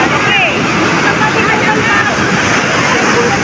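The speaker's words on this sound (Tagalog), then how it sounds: "Nagpasikat na po ang alon." Big ocean waves surge and hiss in a dense, steady roar of surf near the shore, with faint whistling tones above and a voice talking over the crashing water.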